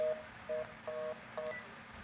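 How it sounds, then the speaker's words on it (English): A phone dials with four short touch-tone beeps at irregular spacing. They sound fairly close but quiet, over a low background hum, with no talking. "let me call her on my phone"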